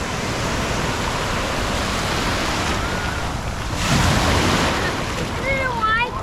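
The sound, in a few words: ocean waves on a beach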